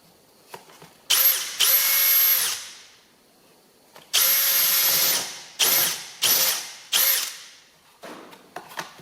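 A power drill boring holes through a compressor gasket clamped against a wooden board, several loud whining bursts of a second or two each, winding up and spinning down between holes, with no voices.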